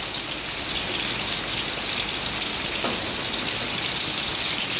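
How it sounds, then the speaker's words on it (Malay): Dried chilies sizzle in a little hot oil in a wok, a steady, dense crackling hiss like rain, close and unbroken throughout. "mula-mula kita panaskan sedikit minyak dalam kuali kita tumis dulu cili kering sebanyak 5 biji"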